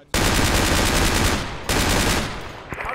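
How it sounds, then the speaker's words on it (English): Automatic gunfire in a Project Reality battle, two long sustained bursts close and loud, the first running about a second and a half before a brief break and the second trailing off into scattered shots. "We're very sensitive to the sound of shotguns."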